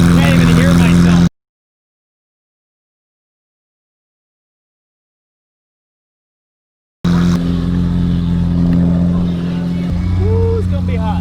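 A very loud Lamborghini Huracán Performante Spider engine roars close by in a steady, harsh drone, cut off by a stretch of total silence before resuming with a pitch shift near the end, with a voice talking over it.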